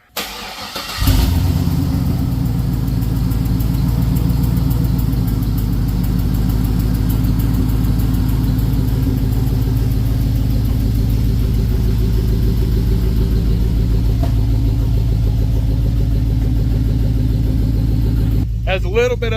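Chevrolet Tahoe engine that has an exhaust leak, cranking to life after a moment of near silence, then settling into a steady, loud idle that runs unbroken to the end.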